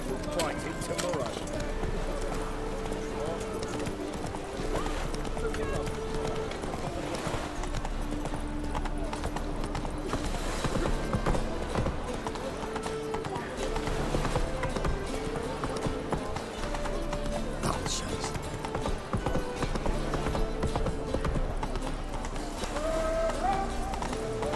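Hooves of Roach, Geralt's horse in The Witcher game, clip-clop steadily at a run throughout, mixed with game music and a voice talking over it.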